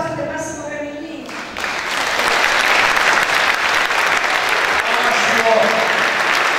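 Loud audience applause at an Italian TV awards show, starting with tonal sound for about a second and a half, then swelling into dense sustained clapping from a large crowd.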